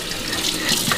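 Tap water running into a sink while hands are washed, a steady close hiss and splash of tepid water with no talking.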